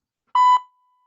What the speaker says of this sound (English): This will beep when we have 3 seconds.